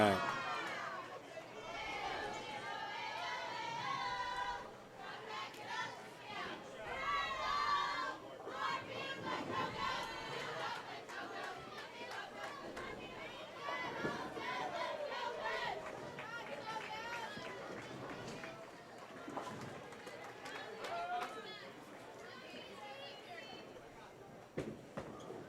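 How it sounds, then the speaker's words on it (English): A bowling tournament crowd in Dallas breaks into a loud, rhythmic group cheer after a string of strikes, many voices shouting together in bursts, with a commentator speaking. "The Yahtzee cheer, 5 in a row."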